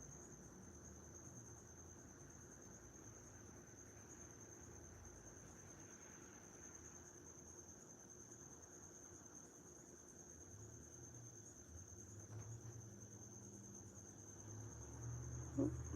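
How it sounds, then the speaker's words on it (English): A constant high, thin chirping of crickets drones steadily in the background, with faint low rustling and a soft knock near the end. "If you can hear the crickets in the background"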